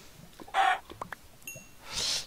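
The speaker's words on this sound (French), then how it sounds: "Oh, il y a plein de poulets, ça c'est cool." Chickens in a Minecraft-style block game give two short clucking bursts with a faint click and tone between them, clear and nearby, with no talk.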